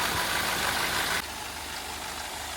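A Mercedes W124 car engine idles with a steady low hum, the noise dropping slightly partway through and then continuing evenly.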